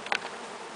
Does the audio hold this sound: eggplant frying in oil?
no